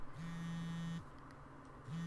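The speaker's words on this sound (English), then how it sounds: "My phone is ringing." A phone rings in the video game You And Me And Her: A Love Story with a low, steady buzzing tone. It holds for about a second, pauses, then starts again, quiet and unaccompanied.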